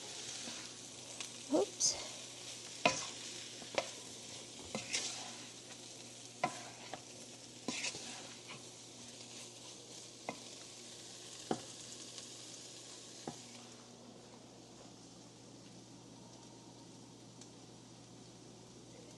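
Home-cooked shrimp fry in a pan, a soft steady sizzle under scattered sharp clinks and scrapes of a utensil stirring against the pan, with a brief spoken exclamation.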